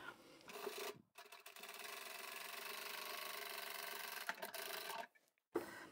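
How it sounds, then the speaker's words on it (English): A sewing machine stitches fabric that is held slightly off the table and pulled through, giving a steady close motor whir with a rapid rhythmic needle clatter, briefly stopping twice and then resuming. "I'm just holding the fabric up from the table a little bit and letting the machine pull it through"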